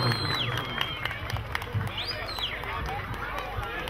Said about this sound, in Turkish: Ustaya alkışlarınız gelsin.